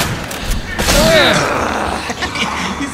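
Gunfire in Resident Evil 2 Remake, a loud booming burst of shots that swells and lingers, layered with game sound effects and a rumbling tail.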